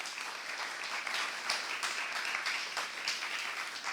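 Congregation applauding during a Saturday church worship service, a steady dense patter of many hands clapping at moderate distance for the full stretch, with no voices over it.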